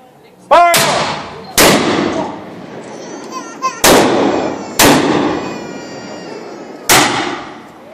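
Musketeers firing a musket volley at Château de Vianden: five loud, close black-powder shots rolling one after another from left to right, each with a sharp crack and echoing tail, plus a faint shouted voice between them.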